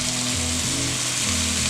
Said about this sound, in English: We just want to throw them into a hot frying pan and start frying them off.